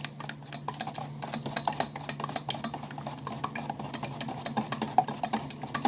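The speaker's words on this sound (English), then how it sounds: "So I'm gonna mix this up all together. It's gonna whisk it all up." A whisk beats a mixture in a bowl with fast, steady metallic ticking and scraping that carries through the whole stretch, close and moderately loud, with no talking.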